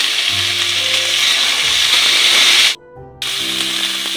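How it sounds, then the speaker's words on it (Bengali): Ginger paste goes into vegetables, including papaya, frying in a pan, setting off a loud, close, steady sizzle with a brief drop in the hiss partway through before it resumes. "এবার আমি দিয়ে নেব একটু আদা বাটা"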